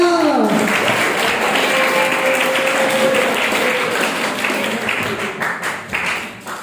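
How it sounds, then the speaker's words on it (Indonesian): Audience applause at a large student assembly of an Islamic boarding school, a dense, steady roar of clapping that holds loud for several seconds and then thins and fades toward the end. "Tepuk tangan semuanya."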